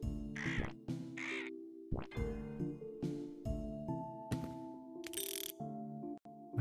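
A raven cawing in the video game Ignatius, heard as a few harsh, rasping calls near the start, followed by mechanical clicking and ratcheting game sounds with sustained tonal hums.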